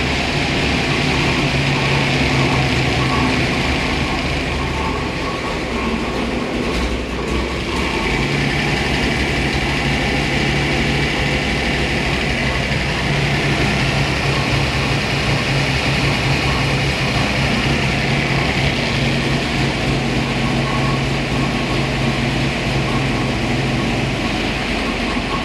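A Hemi-headed small block engine runs on 93 octane during its first run-in, with a loud, steady, continuous roar that holds at an even level throughout.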